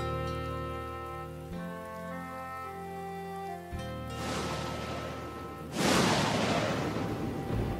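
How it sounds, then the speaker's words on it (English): Steady rain pours down in a Strawberry Shortcake children's cartoon, starting over soft background music and swelling into a dense, loud hiss of falling drops. "it had been raining for days and days"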